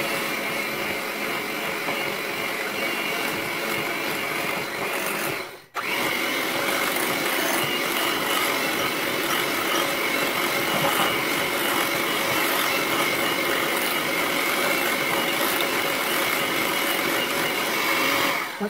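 A KitchenAid stand mixer beats lemon pie filling with a steady, loud whirring hum that drops out briefly near the middle and resumes unchanged, with no voices.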